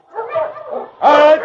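A sled dog team in the Yukon yips, whimpers and barks in short, close bursts, the last cry louder and more strained, in an old radio drama.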